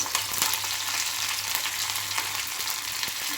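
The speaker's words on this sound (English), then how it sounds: "in that oil I am adding little garlic and curry leaves" Garlic and curry leaves frying in hot oil for chicken 65, a steady close sizzle with faint stirring clicks, no talking.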